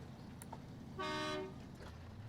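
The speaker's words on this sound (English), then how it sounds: "Honk honk." A single sustained honk from a Fleetstar truck in the off-road driving game SnowRunner, about half a second long and moderately loud, over quiet engine and ambient game sound.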